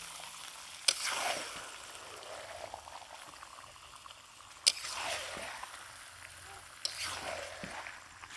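Duck meat frying with spices in a pan over a village wood fire, a steady broadband sizzle with a few sharp utensil clatters and swells as the meat is stirred.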